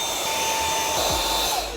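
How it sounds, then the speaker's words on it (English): Dyson vacuum cleaner runs steadily indoors beside a high school desk setup, a loud continuous motor whine and rush of air with no talk. "In fact, let's just vacuum."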